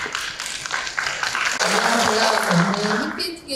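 An audience breaks into dense, loud applause after a talk on stock investing, with a wash of clapping and voices mixed in that thins out near the end.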